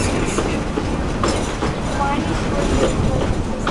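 Railroad cars rumble and clatter along the track behind a steam locomotive on the Magic Kingdom railroad, a steady loud rolling noise with faint speech over it.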